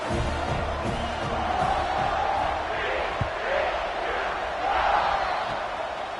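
A college football stadium crowd before a kickoff with the game tied after an extra point, a dense steady roar of cheering and yelling that swells slightly, heard under a commentator's voice.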